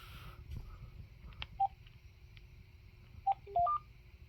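Beeping key tones from an AT&T EL52303 DECT 6.0 cordless phone handset while switching off the answering system: a single beep, a pause, then a quick run of three or four tones of varying pitch, clear and close over faint background hum.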